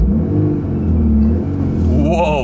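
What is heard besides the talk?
sporty Volkswagen Golf engine revving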